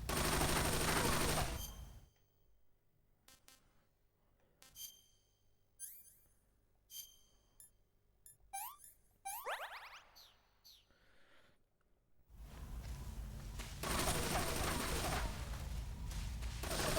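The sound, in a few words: gunfire in video game Metal Gear Solid 3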